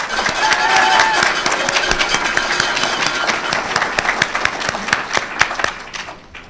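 Sustained applause from an audience at an award ceremony honoring a Hall of Fame inductee, steady dense clapping that tapers off near the end.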